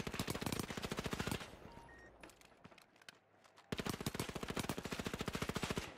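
Sustained automatic gunfire in the video game The Finals, loud rapid bursts of shots that pause for about two seconds amid scattered clatter, then resume in a steady fast rhythm with no talking.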